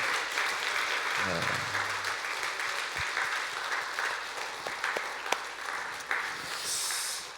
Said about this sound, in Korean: 옆에 분들에게 우리 한번 박수 한번 해줄 텐데요.